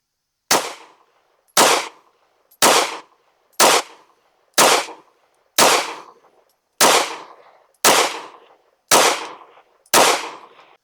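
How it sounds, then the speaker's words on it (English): Ten rifle shots fired at a target with a Gideon Optics Rock green dot sight mounted, each a sharp loud crack with a short decaying echo, spaced roughly a second apart. "Let's shoot a 10-shot group at the top right target."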